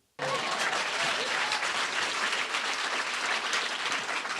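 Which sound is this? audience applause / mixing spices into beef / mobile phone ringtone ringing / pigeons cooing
audience applause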